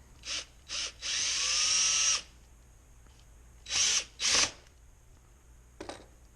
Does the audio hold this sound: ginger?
no